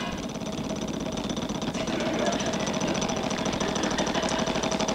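A game show prize wheel spins with a dense, rapid clattering of pegs against the pointer, steady and loud throughout with crowd ambience beneath.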